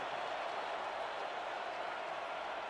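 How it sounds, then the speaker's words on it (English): A crowd in the Delta Dome cheers and roars through an SFL football game as the defense takes the field, a steady broad wash of noise heard at a distance, with no clear individual voices. "you can hear the people in the Delta Dome getting pumped up for their defense"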